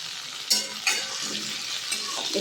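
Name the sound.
potatoes frying and being stirred in a pan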